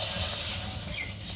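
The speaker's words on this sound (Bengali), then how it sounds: "তেলে ভেজে নিচ্ছি।" Pumpkin flowers dipped in flour batter frying in hot oil, giving a steady soft hiss that carries throughout, faint and close.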